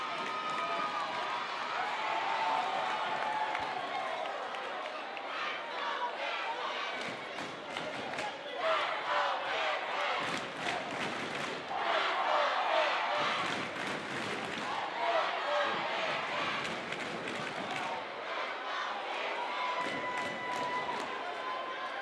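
A basketball crowd at York High cheers and roars through a home game, a dense, steady wash of voices with swells and surges over about twenty seconds, with footsteps and courtside shouts mixed in.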